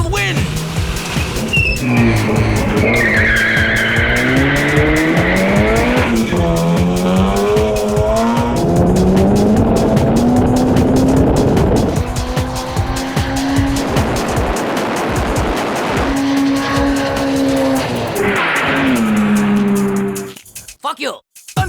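A turbocharged Honda CRX races a 420-horsepower Aston Martin DB7 Vantage, engines revving loudly and continuously with rising and falling pitch, tires squealing through corners, over music and voices, before cutting off abruptly near the end.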